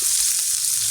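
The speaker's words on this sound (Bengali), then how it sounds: "সেই তেলেই পেঁয়াজ কুচি, কাঁচামরিচ কুচি, 1 চা চামচ জিরে দিয়ে হালকা একটু ব্রাউন কালার হয়ে আসা পর্যন্ত ভেজে নিতে হবে।" Chopped onions, green chillies and cumin sizzle in hot oil, a steady close hiss that lasts under a second.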